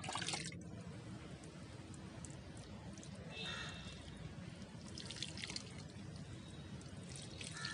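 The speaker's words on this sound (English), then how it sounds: "Now we shall water the plant." Water pours and trickles continuously onto a potted ferocactus, a soft splashing stream close by with a few faint clinks.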